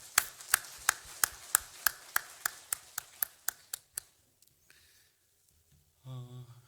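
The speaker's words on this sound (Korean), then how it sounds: "우리 하나님께 영광의 박수 올려드리겠습니다" Roughly a dozen sharp, evenly spaced claps ring out in a church, slowing and fading over four seconds, then near silence before a brief voice at the end.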